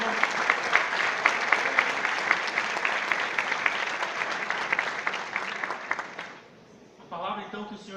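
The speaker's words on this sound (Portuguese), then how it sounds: "Aplauda o Senhor." A church congregation breaks into loud, sustained applause at an evening service, a dense wash of clapping that fades out near the end before a voice begins speaking.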